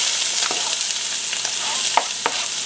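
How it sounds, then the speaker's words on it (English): Half an onion fries in a hot pan, giving a loud, steady close-up hiss with occasional sharp crackles and stirring taps, and no voices. "Anyway, we're putting the onions in now."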